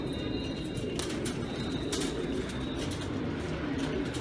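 Pigeons coo softly in a quiet enclosure: low, muffled coos repeat over a faint hiss, broken by a few sharp clicks and rustles.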